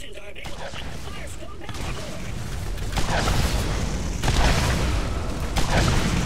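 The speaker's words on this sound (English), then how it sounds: "This rocket launcher is kind of useless," A rocket launcher fires in the shooter game Borderlands, heavy booming blasts and explosions at about three and four seconds over constant battle noise and mechanical rumble, dense and loud.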